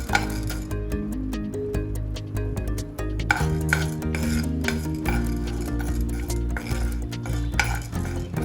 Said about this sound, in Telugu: పెనంలో ఆయిల్ వేసుకొని కొంచెం మినప్పప్పు గోల్డ్ కలర్ వచ్చే వరకు వేయించుకుందాం.